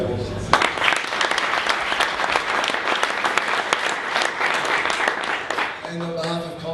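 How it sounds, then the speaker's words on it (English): A conference audience on video and unified communications breaks into loud, sustained applause, broad and even throughout, with a brief musical cue near the end. "Ladies and gentlemen, with Kevin Block, round of applause."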